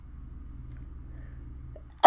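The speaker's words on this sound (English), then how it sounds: "Oh no, I got to sneeze." A single sharp sneeze from a person playing Assassin's Creed Origins bursts out at the very end, loud and close, after two seconds of quiet low game hum.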